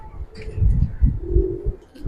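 Giribaz pigeons coo in a loft, low throaty calls rising and falling close by, with a voice talking faintly at times.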